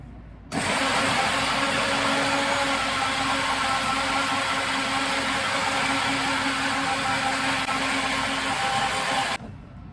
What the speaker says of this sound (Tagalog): Ayan, blender na natin siya.